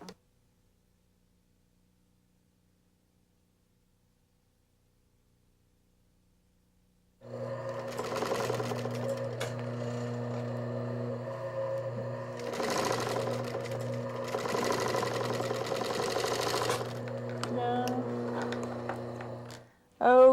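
A sewing machine stitches the head of a teddy bear, starting after a long silence and running with a steady motor whir and fast stitching rhythm. It slows briefly in the middle and ends with a short noise.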